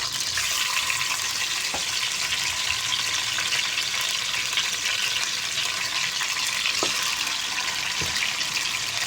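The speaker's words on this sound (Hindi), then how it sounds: "अब हमने तेज़ आंच पर इसको अच्छे तरीके से फ्राई करना है।" Chicken leg pieces fry in a karahi over high heat, a steady close, loud sizzle with occasional sharp pops and stirring clicks throughout, no voices.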